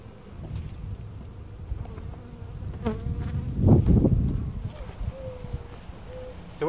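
Honeybees buzz around an open hive during a spring inspection, a steady close drone with scattered wingbeat flyovers, light handling clatter and faint voices underneath.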